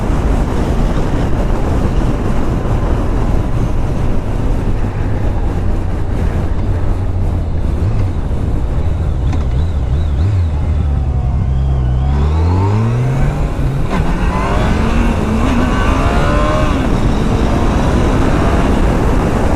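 A 2013 Yamaha FJR1300 motorcycle cruises under strong wind rush with a steady engine drone, then drops off and surges into a loud rising rev as it accelerates hard partway through.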